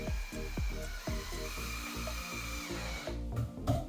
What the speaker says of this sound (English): Next, I'll take these and just screw them into place.